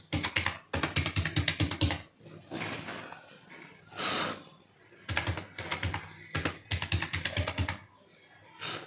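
Fast typing on a computer keyboard while an email and password are entered into a registration form, bursts of rapid, close key clicks separated by pauses, with a voice talking in between.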